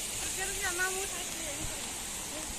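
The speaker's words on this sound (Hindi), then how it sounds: "यहां देखो पूरा पानी रोड के ऊपर से चल रहा है" Water streams across a broken, half-washed-out road strewn with debris, a continuous broadband rushing hiss close by, while people talk over it.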